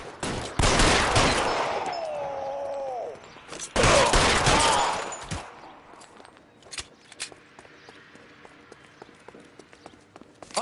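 A sharp, loud burst of gunfire erupts in the L.A. Noire detective game, followed by a second heavy volley, then scattered single shots and footsteps trailing off as the fight fades.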